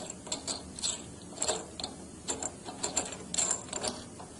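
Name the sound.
turning the adjusting screw on a Jordan Mark 60 valve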